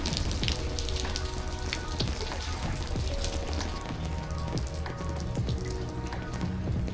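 Steady rain falling in the Maldives, a dense continuous patter of drops on surfaces with occasional louder splashes, moderately close and unbroken throughout.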